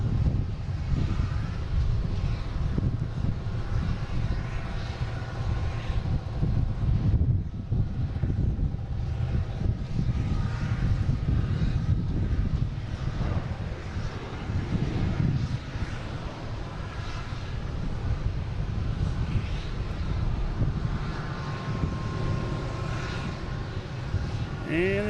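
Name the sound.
Southwest airliner arriving at Boston Logan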